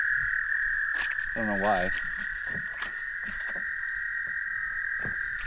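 Frogs calling near a dock at night: a continuous high trilling chorus runs steadily throughout, with a brief pulsing croak and a few clicks nearby, while a person speaks briefly.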